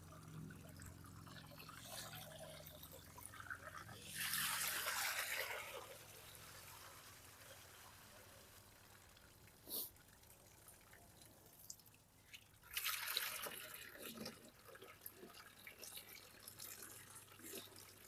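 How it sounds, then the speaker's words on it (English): Spring water pours from an outdoor source into a 5-gallon bucket at a tiny house community on Pine Lake, a steady trickling flow with louder splashing bursts midway and near the end. "40 seconds is how long it takes for this water to fill up a 5-gallon bucket."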